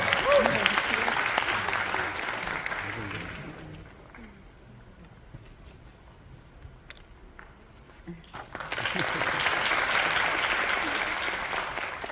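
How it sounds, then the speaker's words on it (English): Audience applause at a graduation ceremony for Ghent University Global Campus, loud clapping that fades to a quieter stretch in the middle, then swells again into a second burst of sustained clapping. "Please welcome her with applause."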